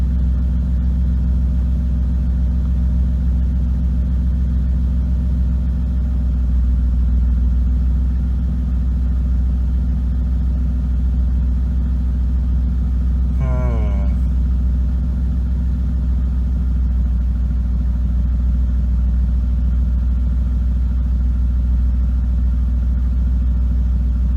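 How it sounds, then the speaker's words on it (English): A BMW E36 car engine idles with a misfire, giving a loud, steady low rumble with an uneven pulse throughout, broken by one brief higher-pitched sound midway. "it definitely sounds like a misfire of some sort"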